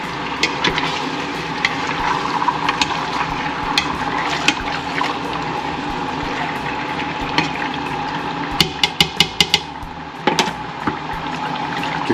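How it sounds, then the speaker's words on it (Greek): Asian-style chicken with vegetables stirred in a pan, giving a steady wet bubbling and sloshing with a run of sharp clicks and scrapes of the utensil near the end, close and moderately loud. "Το ανακατεύουμε καλά."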